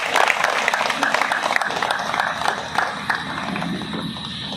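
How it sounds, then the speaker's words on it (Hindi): An audience at a business meeting in Saliya Imamganj breaks into hearty applause, many hands clapping in a dense, loud burst that gradually thins, with voices mingled in the crowd. "जोरदार ताली कम ऑन द स्टेज"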